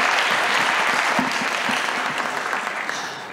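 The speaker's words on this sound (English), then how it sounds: "May I have a very warm applause, ladies and gentlemen, for these three panelists" Warm audience applause for panelists at a panel discussion, continuous dense clapping held at steady volume before tapering off slightly.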